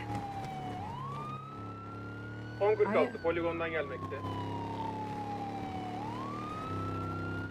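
A fire engine siren in a video game wails and sweeps steadily as the truck passes, loud and continuous, with a brief burst of radio-like talk in the middle.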